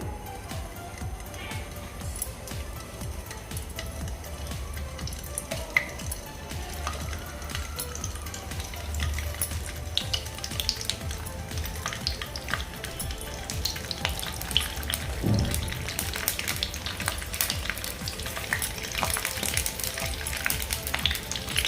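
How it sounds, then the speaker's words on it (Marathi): Eggs frying in hot oil on a tawa over a low gas flame give a continuous soft crackle and sizzle with occasional pops, steady and close, with some faint background noise throughout. "तेल आपलं गरम झालेलं आहे आता यामध्ये अंडे घालूयात गॅसची फ्लेम लो ठेवायची आहे"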